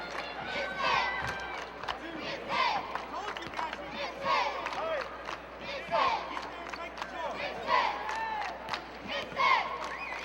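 A crowd at a 2007 high school boys basketball game between Shawnee and Harrah at the Ford Center fills the arena with steady murmur and shouting, swelling in waves, while a voice talks over it.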